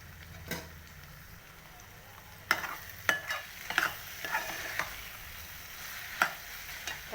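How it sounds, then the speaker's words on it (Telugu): Capsicum cooking in a pan for a cashew curry makes a quiet, low sizzle, broken by sharp clinks and scrapes of a spoon stirring, with the clatters clustering in the second half. "క్యాప్సికమ్ వేసేసుకొని క్యాప్సికమ్ 2 minutes మగ్గనిద్దామండి."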